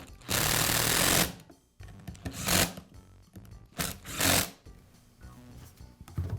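An impact driver rattles in several loud bursts of a few seconds each, with short quiet gaps between them, driving screws while fitting a new hook and loop pad to a Porter Cable sander.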